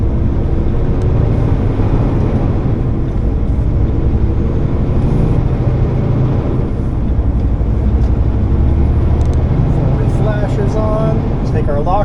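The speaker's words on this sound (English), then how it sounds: "So we gotta go spinning our tires." Off-road vehicle with its lockers off, engine droning loud and constant as the tires spin, a dense roar that fills the whole stretch with faint voices underneath.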